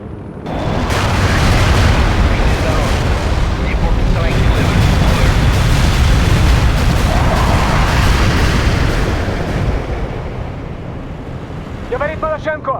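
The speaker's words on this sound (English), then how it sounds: "Artillery. Rolling." Sustained, loud rumbling barrage of artillery explosions in the real-time strategy game World in Conflict, a dense continuous roar with wind-like noise that fades near the end as faint voices come in.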